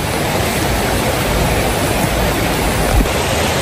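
Heavy rain falls as a loud, steady wash of hissing noise, continuous and uniform with no voices.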